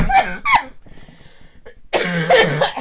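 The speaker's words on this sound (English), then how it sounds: "I cough and then she coughs." Two bursts of coughing from one person, each loud and close, a short pause with low breathing between them, and no talk.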